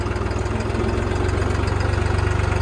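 A New Holland 3630 4x4 tractor engine runs close by with a steady, rhythmic diesel chugging at idle, growing slightly firmer and more pulsing toward the end, with no voices over it.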